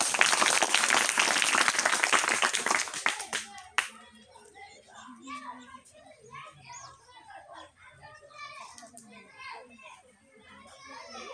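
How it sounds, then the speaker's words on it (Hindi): An audience claps loudly and steadily for about three and a half seconds at a school Children's Day event, then the applause drops away into lively children's chatter and voices across the room. "तालियां बजा दीजिए।"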